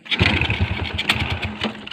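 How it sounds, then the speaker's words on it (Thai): A Wave 100 motorcycle engine, just started and still faltering, runs close by with a rough, pulsing idle and uneven sputtering chugs. "เครื่องยนต์ ติดแล้วครับ เครื่องติดแล้ว"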